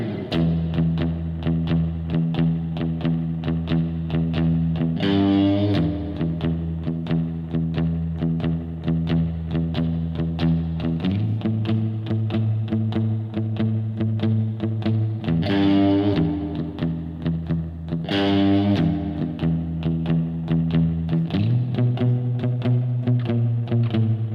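A one-finger 12-bar blues rhythm on a single string of an electric guitar chugs steadily, with a distorted tone and a riff that shifts pitch with the chord changes, played alone with no talking.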